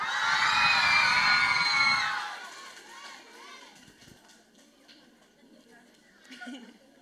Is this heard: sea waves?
no